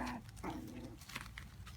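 Havanese puppies play-fighting, giving small growls and yips in quick bursts close by, with a low rumble of scuffling underneath.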